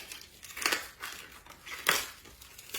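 A knife slices a red onion into long spiral strips in a home kitchen, a few soft crunching, crinkling cuts spaced about a second apart, fairly close and quiet.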